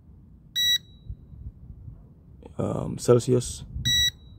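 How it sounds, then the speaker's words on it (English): A TOPTES PT330 combustible gas detector gives two loud, short electronic beeps, one early and one near the end, with someone speaking briefly between them. "and that's a rather loud beep."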